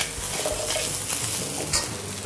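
Rice for Korean fried rice stirred in a frying pan, a steady scraping stir over a soft, continuous sizzle, close and fairly loud throughout.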